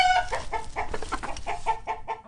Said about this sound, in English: The hens were awake, clucking over one another, their heads bobbing.